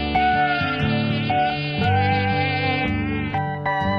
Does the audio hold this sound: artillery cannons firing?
no